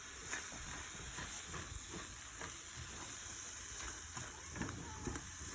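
Steady frying sizzle of scrambled eggs in a pan, a constant hiss with small crackles and pops throughout, fairly quiet and close, no talking.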